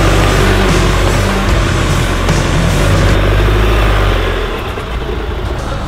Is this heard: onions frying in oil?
no